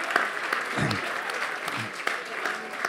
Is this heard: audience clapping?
yes